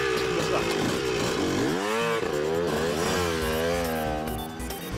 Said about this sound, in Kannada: ಮೋಟು ಪತ್ಲು, ನೀವು ನನ್ನ ಹೊಸ ಬೈಕ್ನ ತಗೊಂಡೋಗಿ